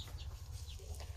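A hen being set on a clutch of eggs gives soft, low clucks, faint and close, over quiet rustling, with no one speaking.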